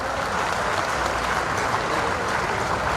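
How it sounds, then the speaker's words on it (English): Audience applause at a foundation stone laying ceremony for a science experience centre at CSIR-IICT, Hyderabad, heard as a loud, dense, continuous roar of clapping with a rumbling low end, steady from start to finish. "A big round of applause,"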